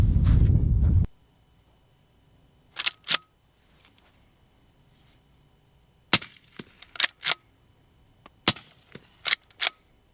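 Midwest Industries lever-action rifle firing outdoors in the cold, with sharp, loud gunshots spaced out in singles and quick pairs after a brief gust of wind noise.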